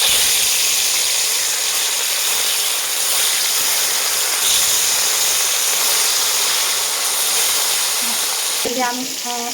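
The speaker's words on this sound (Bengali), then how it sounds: "এখন আমি এটাতে মাছগুলো ভেজে নেবো। মাছগুলো দিয়ে দেবো।" Fish frying in hot oil for a spicy fish curry with pumpkin flowers and tomato: a steady, loud broadband sizzle fills the whole stretch, with a brief clatter near the end.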